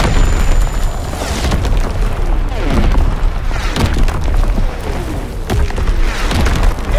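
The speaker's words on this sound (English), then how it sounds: "Incoming enemy artillery! Get to cover!" Enemy artillery explosions in Call of Duty: WWII, a barrage of loud, deep booms and rumbling blasts that land every second or so with no pause between them.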